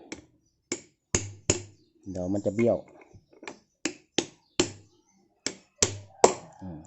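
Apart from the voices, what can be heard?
tapping a front fork seal into place with a socket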